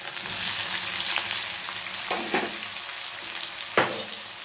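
Finely chopped garlic and onion frying in a pan, a steady bright sizzle throughout with a few louder spoon scrapes and knocks against the pan, close by.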